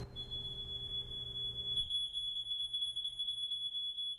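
Pre-recorded smoke-alarm-style sound effect played on a film set, a steady piercing high electronic tone over a low background hum that drops away partway through, with no voices.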